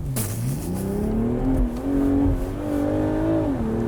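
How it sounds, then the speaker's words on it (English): A 2023 BMW Z4 M40i with a turbocharged 3-liter inline six launching hard on wet pavement, its engine note rising steadily in pitch as it accelerates, loud and close, with no talking. "'23 BMW Z4 M40i with launch control."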